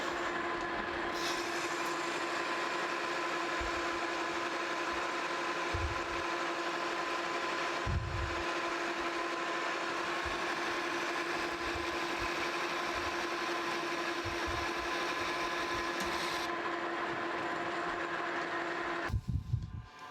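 A metal lathe turns a steel caster spindle for a New Britain vise cart, giving a steady, moderately loud motor hum with a tonal whine and occasional low thumps and rattles, then a brief clunk at the end.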